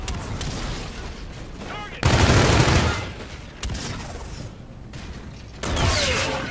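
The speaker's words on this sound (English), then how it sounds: "All the shooting started to freak me out." Gunfire from the shooter video game Call of Duty: Infinite Warfare rattles on without letup, with loud dense bursts and fusillades layered over constant game noise.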